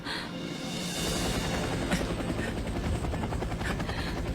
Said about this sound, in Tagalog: Isang helicopter! Isang helicopter!